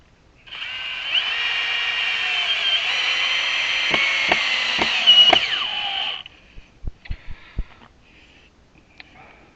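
A power drill with a square drive bit unscrews a screw during a copper wind chime build, whirring steadily for several seconds with a few sharp clicks, then stopping before a handful of short ratcheting taps.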